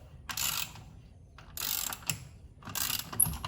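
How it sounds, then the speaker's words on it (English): A wrench ratchets on a car wheel's lug nut as it is loosened during a spare tire change, three short clicking bursts close up with pauses between. "I need 2 hands to get the lug nut off."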